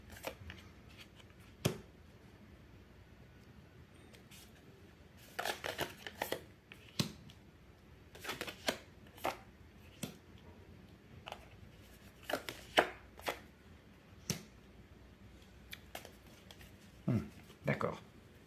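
Tarot cards are shuffled and cut in quiet, intermittent bursts of crisp papery flicks and riffles, separated by short pauses over a soft background.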